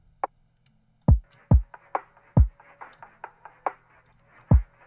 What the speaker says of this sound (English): And then obviously I got the kick drum. It's been pitched, so it's actually like tuned.